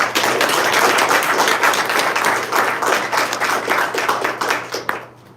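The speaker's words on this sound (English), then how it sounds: "So give them a round of applause." An opening-night audience claps loudly and continuously close by, a thick burst of applause that holds for about five seconds before tapering off into a few last claps.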